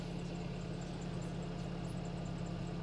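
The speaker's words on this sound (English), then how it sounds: "Can you hear the engine?" A car engine idles steadily at low volume, a constant low hum without talk, heard during a walk-around of a junked car at a Copart salvage auction.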